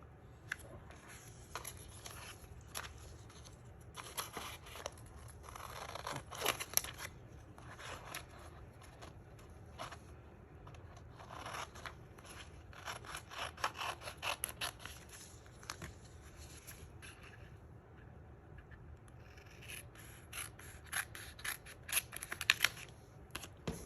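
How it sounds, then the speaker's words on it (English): Scissors snip paper strips for handmade fall cards, with a series of quiet, irregular crisp cuts and rustling close by, grouped in bursts with short gaps. "I just cut off pieces as I need them."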